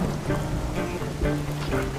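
Rain falls steadily outdoors, a dense, even patter with a few heavier splashes, close and fairly loud, with no voices.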